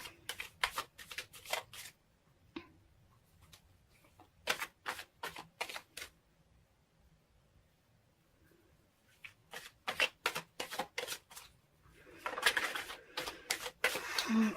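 Tarot cards are shuffled and drawn, giving quick, close bursts of riffling and crisp flicking in several separate runs with quiet gaps between them, soft in level and with no voices.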